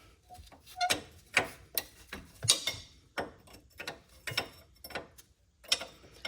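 A wrench runs a castle nut off a control arm ball joint on a Saturn Vue, giving a series of close, irregular ratcheting clicks and metal taps with brief pauses between strokes.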